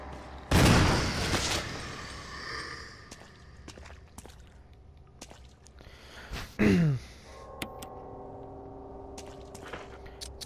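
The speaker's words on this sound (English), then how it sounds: "And now we're going to need the shotgun again." A shotgun blasts in the survival horror game Resident Evil HD Remaster, one heavy boom opening the sequence followed by quieter scattered impacts, footsteps and a later burst of creature-like noise.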